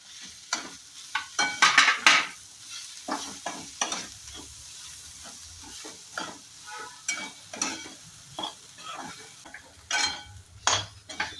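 Kandule bhaji, a wild leafy vegetable, being stirred in a pan with Kolhapuri chili powder, a string of brisk spatula scrapes and clanks over a low sizzle, some bursts louder than others.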